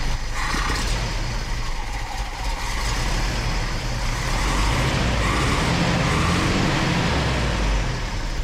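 A Datsun engine fitted with a Weber carburetor idles loudly and a little unevenly up close, a continuous rough rumble with no speech over it.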